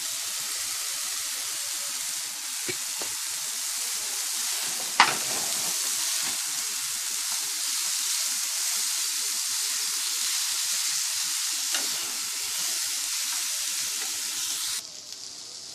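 Rice stir-fried with potato and egg in a pan, a steady loud sizzle and hiss throughout with occasional scraping stirs and one sharp clack midway, ending quieter.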